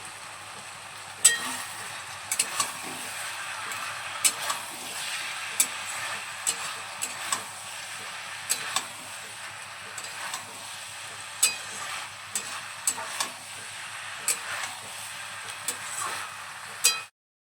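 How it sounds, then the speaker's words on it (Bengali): Cauliflower stalk vegetables with raw mustard oil fry in a pan over gas with a steady soft sizzle, while a spatula stirs and knocks against the metal in regular sharp clacks about once a second, up close. "কাঁচা সর্ষের তেলটা সবজিগুলোর সঙ্গে একটু নেড়ে চেড়ে মিশিয়ে নেবো"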